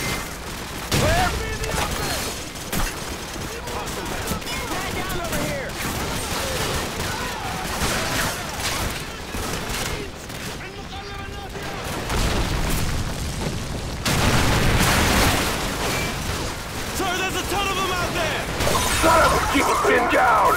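Sustained suppressing gunfire in the Call of Duty 4: Modern Warfare mission The Bog, rapid bursts and booming impacts rolling on without pause, with occasional shouted voices in the mix.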